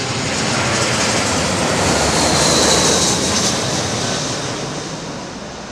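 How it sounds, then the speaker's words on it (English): An airplane landing at London Heathrow Airport roars loudly and continuously with a broad engine rush that swells in the middle and slowly fades as it passes, heard alone without talk. "Kind of tricky landing in these conditions right now, folks"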